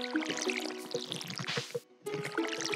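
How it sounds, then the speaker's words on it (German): Crops are watered with a watering can in the farming game Stardew Valley: brief, soft splashing pours come in short bursts over quiet game music. "Ich gieß mal unser Feld hier, ne?"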